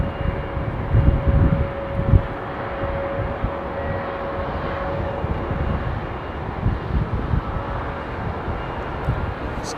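An Iberia Airbus A350 comes in to land at London Heathrow, its steady jet roar and rumble heard from a distance with a faint whine running through it and no voices.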